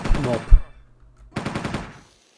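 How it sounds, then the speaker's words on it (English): Rapid gunfire from hunting a mob on Cyrene in the online game Entropia Universe: two dense bursts of repeated shots separated by a short quiet gap, fairly loud and close. "whose bright idea was to start shooting that mob"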